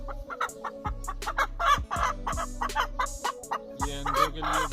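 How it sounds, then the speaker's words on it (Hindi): A Heavy Buff hen on a small chicken farm in Pakistan clucks in short, repeated bursts, close by and fairly clear, with other fowl faintly around her. "ये मादी हैवी बफ की चेक करें आप"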